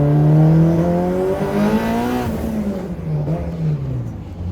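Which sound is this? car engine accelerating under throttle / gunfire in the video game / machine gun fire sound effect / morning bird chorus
car engine accelerating under throttle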